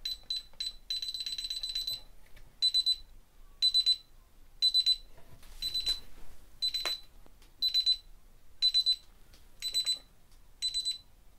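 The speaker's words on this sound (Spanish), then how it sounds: "Conectamos la alarma." A high electronic beeping repeats in a steady series of short bursts as a DSC alarm system is armed, with a brief rustle partway through, clear and close with no talking.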